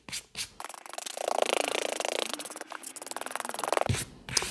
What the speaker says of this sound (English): we're going to go with the metal side of the brush, the coarse side, and just give it a once over